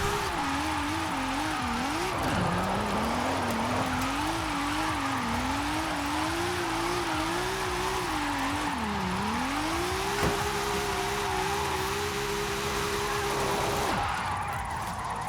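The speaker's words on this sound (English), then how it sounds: "this thing slides so nicely" A 2JZ-swapped Nismo replica drift build in Forza Horizon 5 holds a loud, continuous engine note that rises and dips as it slides through wide corners, with revs swooping down and climbing back, no talking.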